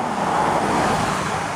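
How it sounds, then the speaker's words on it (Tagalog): Steady, loud roar of vehicles moving along Maharlika Highway during a typhoon, with continuous close road and tire noise and no talking. "Yan, dire-diretso pa rin ang mga sasakyan."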